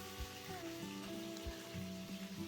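Steady, quiet sizzling of katla fish frying in oil, a continuous crackling hiss with faint clinks, no talking.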